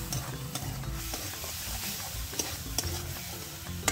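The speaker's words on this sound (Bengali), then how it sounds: "দিয়ে বেশ ভালোভাবে মশলাটাকে কষে নেব।" Ground spice paste and chicken skin being stir-fried in a pan, a steady close sizzle broken by scraping stirs and a few sharp clinks of the utensil against the pan.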